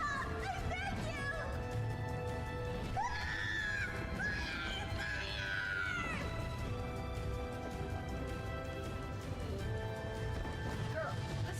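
Screaming battle cries in the video game Drakengard 3, a dense wall of distant yelling voices and crowd-like clamor running continuously under music, with rising and falling cries in the middle.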